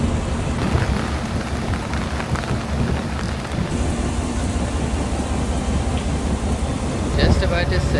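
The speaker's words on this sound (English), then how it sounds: "Just about to say it wasn't raining hard enough, but now it's pouring." Heavy jungle rain pours down on a river boat in Tanjung Puting, Borneo, a dense, constant hiss, loud and close, with a faint low rumble beneath it.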